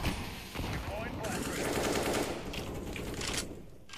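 Dense, continuous gunfire fills a competitive CS:GO match. Rapid automatic bursts run loud throughout, and voices talk under the shooting.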